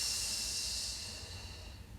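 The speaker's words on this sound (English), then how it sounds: "Taking these first few breaths to assess" A slow, deep breath drawn during a yoga session, a soft airy hiss that gradually fades over about two seconds.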